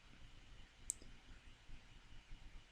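A single sharp mouse click on an upload button, brief and close over a quiet room background, with no talking.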